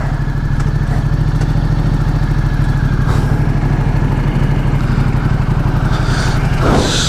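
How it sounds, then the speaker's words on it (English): A Ducati XDiavel cruiser's L-twin engine idles nearby, a steady, loud, low, lumpy throb that runs unbroken from start to finish. "Now you can hear the engine. This is a L twin, so you know the engine's got a different sound than your inline 4"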